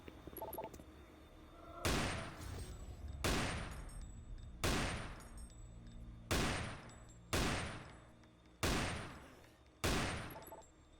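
Gunfire in the Doom 3 video game: seven heavy, evenly spaced booming shots about every second and a half, each with a sharp attack and a lingering decay, over a faint game background.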